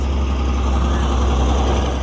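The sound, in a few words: tractor passing by a field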